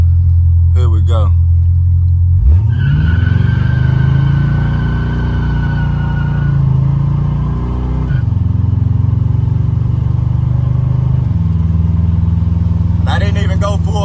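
A 1986 Buick Regal G-body with a big-block engine and Holley EFI pulls away at quarter throttle, its deep rumbling exhaust rising in pitch, easing off, then picking up again, loud and close throughout.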